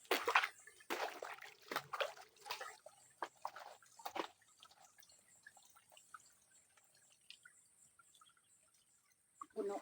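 Water dripping, splashing and sloshing as someone bathes alone beside a well, with a burst of louder splashes in the first few seconds, then quieter scattered drips and small sloshes.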